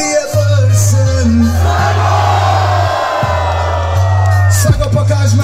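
A large concert crowd at a show in Çerkezköy shouts a chant in loud unison, whooping and yelling over a heavy, sustained bass tone from the music.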